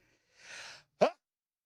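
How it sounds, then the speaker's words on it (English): A single sneeze up close: a breathy, hissing intake builds for about half a second, then a sharp, loud burst of noise cuts off quickly, followed by silence. No talking. "Hold on, I have to sneeze."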